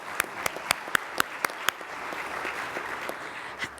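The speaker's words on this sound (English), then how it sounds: "but we can clap for her." Applause for an absent Smallwood Family Scholarship recipient from Killeen High School at a school district awards ceremony: a few sharp, evenly spaced claps lead off, then spread into a softer, steady wash of clapping from the audience.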